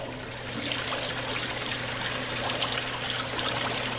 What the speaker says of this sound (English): You can just see that water running in there.